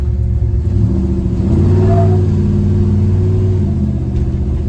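A deep, rumbling 1973 GMC K10 4x4 pickup with a 468 big-block engine revs up and pulls away, its low drone steady and loud throughout.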